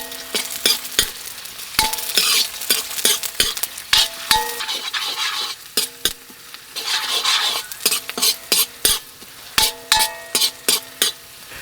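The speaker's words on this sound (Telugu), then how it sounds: "నూనె వేడెక్కగానే కోసి పెట్టుకున్న అల్లం వెల్లుల్లి ముక్కలు వేసుకుని బాగా వేయించుకుందాం" Ginger, garlic and onion pieces fry in hot oil for a curry leaf chicken fry while a utensil stirs and scrapes the pan in repeated, close clinks over a soft sizzle, with no talk.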